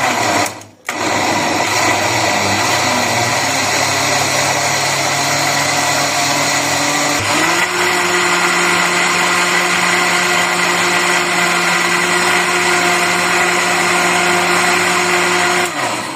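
Cooked potatoes and milk churn in a blender, its loud, close motor whining steadily for the full stretch and shifting pitch midway as the mixture smooths, with no voices.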